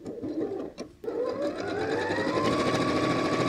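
A sewing machine stitching quilt squares into strips of three for a tulip block, starting after a brief pause and then running in a steady, close, continuous whir that builds slightly, with no talk.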